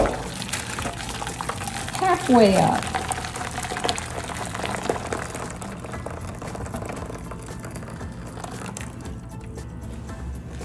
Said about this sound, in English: Then I'm pouring boiling water around the sides,